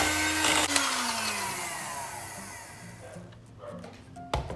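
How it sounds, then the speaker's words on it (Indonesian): Electric hand mixer whipping red velvet cream cheese filling for choux pastry, a close motor whir with shifting pitch as the beaters churn, easing off near the end before a brief clatter. "Kita mixer dulu sebentar, supaya bisa di-squid ya."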